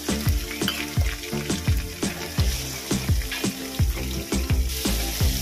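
Prawns frying lightly in a pan give a steady close sizzle, broken by repeated rhythmic scraping or stirring knocks about twice per second, with no talk.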